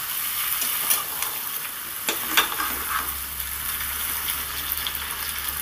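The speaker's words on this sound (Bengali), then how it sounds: "আবার আমি 2 মিনিট সুন্দর করে কষিয়ে নিচ্ছি।" Chicken sizzles steadily as it is sautéed in oil in a pan, a continuous close frying hiss broken by a few brief scraping stirs, with no talking.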